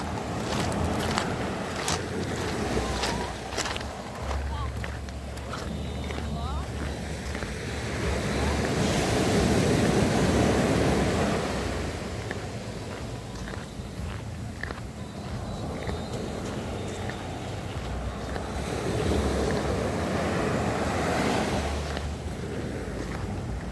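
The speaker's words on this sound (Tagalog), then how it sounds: "Pero kalmado lang talaga ang alon" Calm sea waves wash gently onto a shore in a steady soft roar, with wind buffeting the microphone and faint voices in the background.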